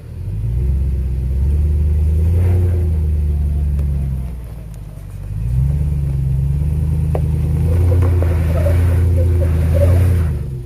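A highly modified Toyota Tundra truck rumbles along an off-road trail, its engine loud and close, revving in two long surges separated by a brief dip.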